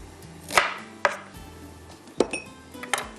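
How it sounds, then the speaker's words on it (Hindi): Knife chopping onion on a board in a home kitchen while cooking achari daal, a few sharp separate strokes spaced irregularly, close and fairly clear against a quiet hum. "इतनी देर में प्याज भी थोड़ी सी चॉप कर लेती हूँ"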